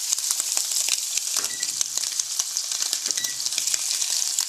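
Scallops frying on the Fry 50 cooker, a steady, close, bright sizzle with crackling pops running continuously throughout.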